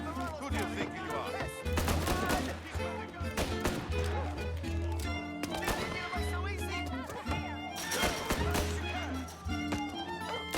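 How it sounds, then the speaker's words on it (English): Enemy gunfire in the video game Mafia Definitive Edition, sharp repeated shots in quick bursts over a loud music score and game sounds, close and prominent throughout. "He's shooting!"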